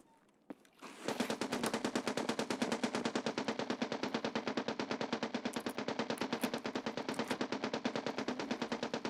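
A PMC empties magazines in a shooter video game: a continuous loud burst of rapid automatic fire with an even, rattling rhythm that runs for several seconds after a brief quiet start.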